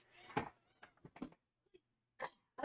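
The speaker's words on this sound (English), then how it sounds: "You've probably heard the meowing." A cat meows several times in short, separate calls with quiet pauses between them, close and fairly soft.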